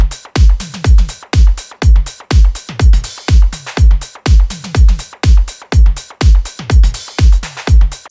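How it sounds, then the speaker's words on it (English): Electronic drum groove in an 80s-flavoured indie dance track, punchy kicks and tuned toms striking in a tight repeating pattern, loud and upfront, no voices. "Together with the drums, sounds like this."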